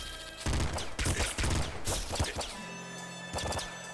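Rapid assault rifle gunfire from the top-down shooter Nuclear Throne, a steady stream of bursty game shots over continuous background music and effects.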